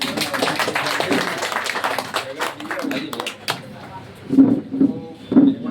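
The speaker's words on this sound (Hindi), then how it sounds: "इनके लिए सब ताली बजाएं" A crowd applauds at an RJD political gathering in Jamalpur, a dense, steady patter of many hands for about three seconds that then thins out, followed by someone speaking close by.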